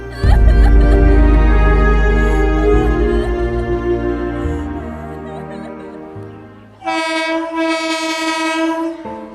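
A loud train rumbles past close by with a rolling, clattering roar, then a long blaring horn sounds for a few seconds.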